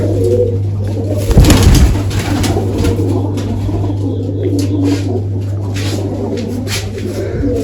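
Pigeons coo in a loft where grain is laid out for their young, soft repeated throaty calls close by over a steady background hum, with a brief flutter-like burst early on.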